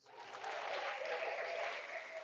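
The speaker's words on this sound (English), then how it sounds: "let's give this man a round of applause" A short, faint burst of audience applause swells in quickly and holds as an even, muffled wash of clapping for about two seconds, with no voices on top.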